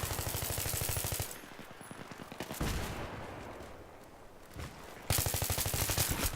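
Rapid automatic gunfire in Battlefield 3 rattles in two loud bursts, separated by a quieter stretch with scattered shots and game noise.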